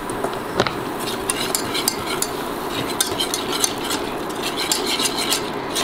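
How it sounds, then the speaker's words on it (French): A broccoli cheese soup whisked in a pot, a dense steady swishing with rapid light clinks of the whisk against the metal, close and fairly loud. "on va continuer aux fouettes"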